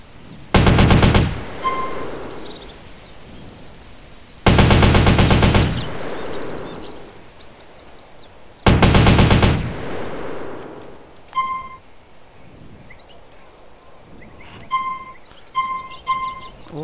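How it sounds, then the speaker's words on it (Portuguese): Bursts of retextured SMG fire from the GTA video game: three loud sustained automatic volleys spaced a few seconds apart, followed by quieter menu clicks and beeps. "Próxima arma, SMG, olha aí, a SMG também, ó, retexturizada, original"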